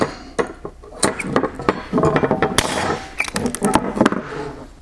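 Dzus quarter-turn fasteners are popped into place, producing close, sharp metallic clicks and clinks in an uneven series, with some rattling handling noise between them.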